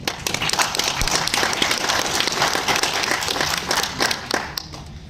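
Dense, continuous applause from a lecture audience, many hands clapping steadily for several seconds before beginning to thin out at the end.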